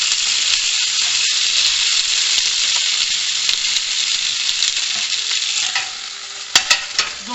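Small potatoes grilling in a pan with meat, a dense steady sizzle and crackle throughout, with a few sharp louder pops and stirring clatters near the end, no voices.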